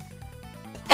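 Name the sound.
sneeze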